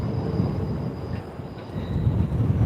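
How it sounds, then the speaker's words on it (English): A freight train rolls past near Doncaster railway station, giving a steady, loud low rumble of wagons with a faint high whine above it, continuous throughout. "just behind us, where that train's heading, there's another freight train"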